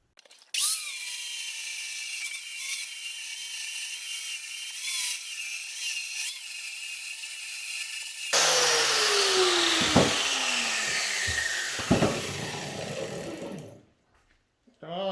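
An angle grinder with a flap disc, mounted on a swivel stand, whines steadily at speed, then bites into metal to smooth a rough hole with a loud, harsh grinding roar before spinning down abruptly.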